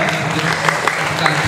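A short burst of continuous audience applause at a seminar, even and fairly loud, with a few sharper individual claps standing out.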